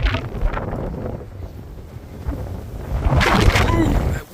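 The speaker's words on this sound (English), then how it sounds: "that wind almost blew me over" Strong, bitter cold wind on top of Blood Mountain, roaring and buffeting against the microphone in uneven gusts that swell loudest near the end.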